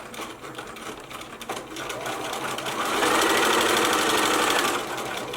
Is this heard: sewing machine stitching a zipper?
yes